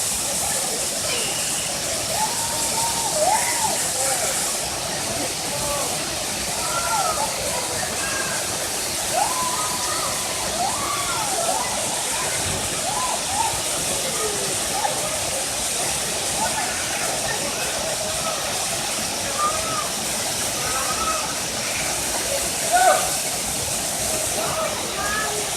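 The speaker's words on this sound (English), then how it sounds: "Gavin and Cody are having so much fun under the waterfall." A waterfall pours in a steady, broad roar that fills the scene throughout, with children's voices and splashing play faintly audible underneath.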